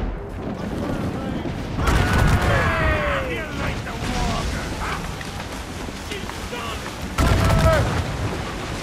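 Ship cannons fire in a naval battle in the video game Assassin's Creed Rogue, heavy booming blasts at two points amid a rumbling battle din, with voices shouting over the action.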